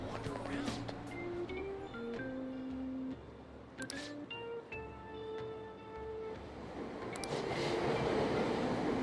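A subway train in Persona 5 Royal rumbles along steadily with a melodic station chime and faint announcement-like voices, the rolling noise swelling toward the end.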